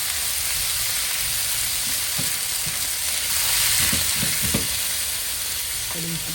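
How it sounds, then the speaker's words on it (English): Beef and garlic stir-frying in a pan, a loud, steady broadband sizzle with occasional scraping and clacking of a utensil as the meat is tossed, no voices over it. "then add the beef, saute also together with the garlic"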